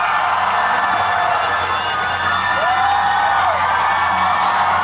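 A festival crowd cheers, whoops and screams continuously as a Golden Melody Award–winning singer is welcomed onstage at the 2019 Iron Rose music festival, a dense, loud roar throughout with a brief rising whistle-like cry near the middle.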